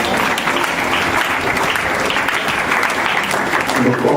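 A church congregation applauds loudly and continuously, a dense wash of clapping close by that fills the whole stretch, with voices mixed in under it.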